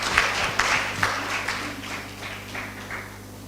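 An audience at a symposium for a waste-for-cash eco project applauds as panelists walk onto the stage, beginning with a few sharp claps and settling into steady, moderate applause that fades slightly, heard from a distance.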